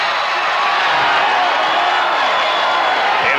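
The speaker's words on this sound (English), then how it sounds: "Crowd enjoyed that turnover." A basketball arena crowd at the 1992 NBA Finals, Bulls against Trail Blazers, roars steadily after a turnover, a loud, dense, continuous wall of cheering and whoops that holds throughout.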